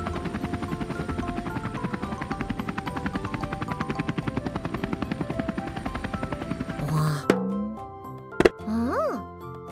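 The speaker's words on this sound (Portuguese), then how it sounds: "Lift, você parece um helicóptero." A helicopter's rotor from a children's cartoon chops rapidly and steadily, then cuts off into cartoon plops and jingles.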